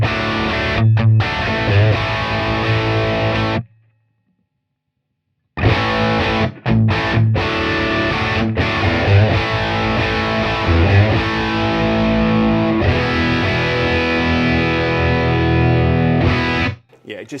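Distorted electric guitar through a Universal Audio Ox Stomp plays a loud riff, stops briefly in silence, then plays again with the room mic switched on.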